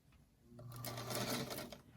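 Quiet, close whirr of a sewing machine stitching scrap pieces into a quilt block, a short run of rapid needle chatter that builds and then slows.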